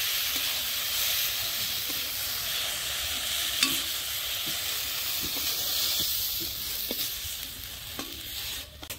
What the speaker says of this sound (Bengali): টমেটো আমি হালকা করে ভেজে নিচ্ছি